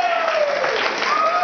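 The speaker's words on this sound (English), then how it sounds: "Give a round of applause for his happy birthday." An audience applauds to celebrate a man's birthday with steady, dense clapping that fills the whole short stretch, with a faint tone running through it.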